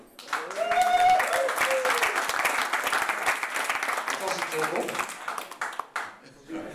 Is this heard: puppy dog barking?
no